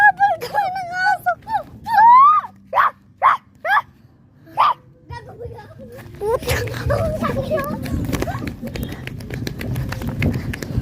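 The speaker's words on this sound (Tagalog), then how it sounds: "Habol kami ng aso!" A dog barks repeatedly in sharp bursts while chasing people outdoors, with whines and yips early on, then excited voices and footsteps take over amid loud mixed noise.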